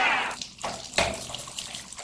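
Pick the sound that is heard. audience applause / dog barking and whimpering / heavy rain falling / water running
water running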